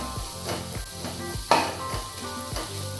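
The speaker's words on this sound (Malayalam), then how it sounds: "ഇത് പെട്ടെന്ന് വഴറ്റാൻ വേണ്ടിയിട്ടാണ്" Salted onions sauté in a pan, with a steady close sizzle under repeated scraping stirs from a utensil and one sharper clatter midway.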